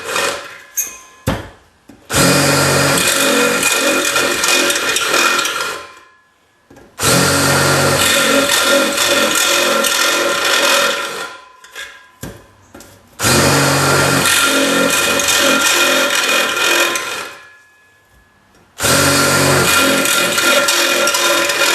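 A power drill bores 5/8 inch holes into a tin can in four long loud bursts, each grinding steadily for several seconds and separated by short pauses and small clicks.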